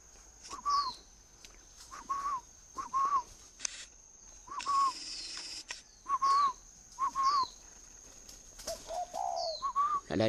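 A pet dove coos repeatedly, soft short calls recurring every second or so, close and fairly clear, with a brief burst of fluttering or noise midway.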